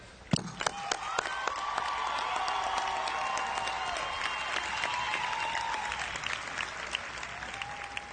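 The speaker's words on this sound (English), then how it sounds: "Please join me in applauding them" Applause rises from a crowd at a North Carolina Central University commencement ceremony, a broad steady clapping across a large hall with some voices carrying through, holding at moderate level throughout.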